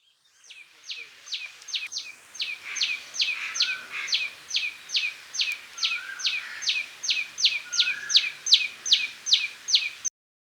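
A tailor bird sings a long series of rapid, sharp, high chirps in an even, repeating rhythm, about two notes per second, close and clear against a quiet background, for roughly ten seconds.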